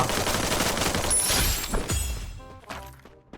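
Rapid gunfire in the Free Fire battle royale game, a dense, loud burst of shots that fades out toward the end.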